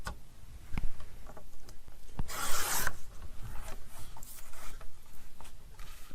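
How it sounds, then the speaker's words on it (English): A blade trims a scrapbook page, with a brief broadband rasp of cutting or scraping midway among small ticks and rubbing handling noises, close and fairly quiet, no talk. "So let's trim this page."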